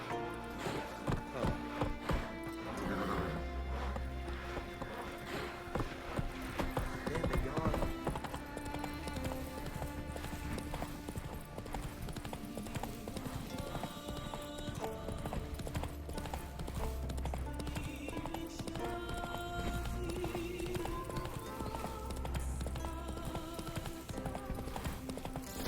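Roach, the horse in The Witcher 3, gallops with rapid rhythmic hoofbeats over a long stretch, accompanied by tonal in-game music and occasional faint voices.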